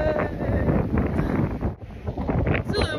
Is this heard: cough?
no